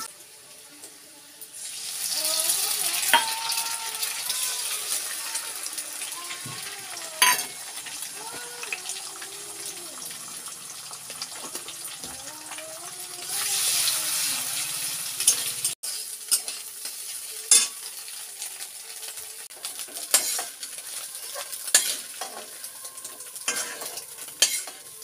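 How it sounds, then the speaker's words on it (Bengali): Two eggs being fried bhujia style in a pan, a steady sizzle with the scrape and clink of a utensil stirring, swelling louder at a couple of points; someone talks over it. "তো এখন এই যে ডিমগুলো ভেজে নেব।"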